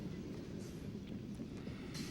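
A Conrail freight train rolls past at Berea, a steady low rumble of wagons and wheels that holds level for the whole stretch, with faint metallic clicks and squeals riding above it.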